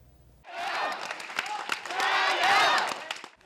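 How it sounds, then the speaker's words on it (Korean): Applause breaks out among staff in a newspaper office after the final edition is finished, a dense burst of clapping, fairly close and sustained for about three seconds before fading. "편집을 끝낸 사무실엔 박수 소리가 울렸습니다."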